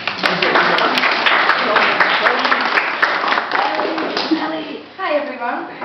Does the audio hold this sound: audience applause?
yes